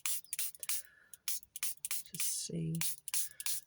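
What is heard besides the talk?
mini spray bottle spraying water on paint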